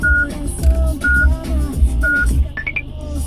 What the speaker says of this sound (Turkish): şu anda bip sesi yoğun bir bip sesi olduğu için konuşmamızla karışıyor